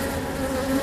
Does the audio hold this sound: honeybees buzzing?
yes